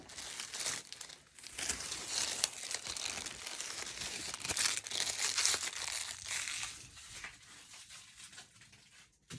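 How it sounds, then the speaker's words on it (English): Heat tape being peeled off a sublimated hoodie, a continuous close crinkling and tearing rustle that runs steadily with brief louder bursts, alone without talk. "Now I'm gonna remove my tape."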